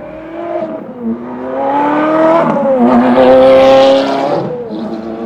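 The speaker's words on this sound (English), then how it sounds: "I hope they make lots of noise because I like fast cars like that." A fast sports car such as a Ferrari, Porsche or Lamborghini revs and accelerates, its engine note climbing in rising harmonic sweeps that grow louder and nearer, then easing off as it passes.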